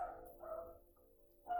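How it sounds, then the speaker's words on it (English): A dog barks somewhere in the neighborhood, a few separate yips and barks spread across a short stretch, fairly faint and distant with low background hum. "there's a dog."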